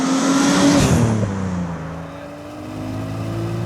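A modified Nissan Laurel Club S with an RB25DET engine, converted to a five-speed manual and running a standalone aftermarket ECU, revs loudly up near 7,500 RPM, then drops back and settles into a lower, rumbling idle.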